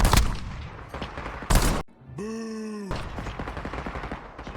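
Gunfire in the video game Call of Duty: a few loud sharp shots up front, a short tonal electronic whine, then a run of quicker, lighter crackling shots.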